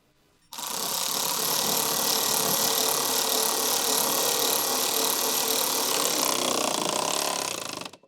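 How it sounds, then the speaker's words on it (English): A medium electric impact wrench with a 12 mm deep socket tightens a rear nut on a Ford Explorer side step bracket, giving a loud, continuous buzzing rattle for about seven seconds that starts and stops abruptly, close by. "For the small rear nut, use the medium 12 mm deep socket with the medium electric impact wrench to tighten it."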